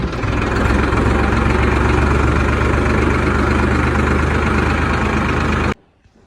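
A parked tractor idles with a deep, steady diesel rumble, loud and close, before cutting out abruptly near the end, leaving quiet.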